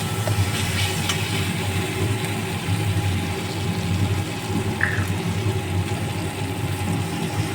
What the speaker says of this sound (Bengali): অল্প করে একটু জল দিয়ে দিলাম যাতে মশলাটা ভালো করে মিশে যায়